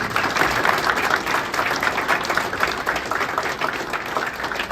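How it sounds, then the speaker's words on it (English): An indoor audience at a room dedication gives a loud, sustained round of applause for honoree Dick Siebert, thick continuous clapping without letup. "So, round of applause for Dick Siebert."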